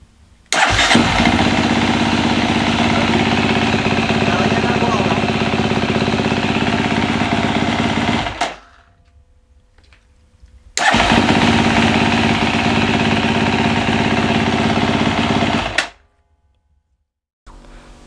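A cold motorcycle with a newly replaced starter cranks and fires up, running loudly and steadily for several seconds, cutting off, then starting again and running before stopping once more.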